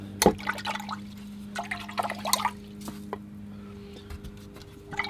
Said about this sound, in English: use a spritzer bottle and spray on a little bit of water